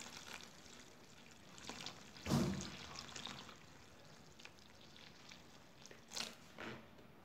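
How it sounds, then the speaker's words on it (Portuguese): Water poured slowly into a liquid soap mixture made from blue bar soap, one soft splashing gush near the middle and a couple of fainter pours later, quiet and close, with no voices. "Eu vou acrescentar o restante da água"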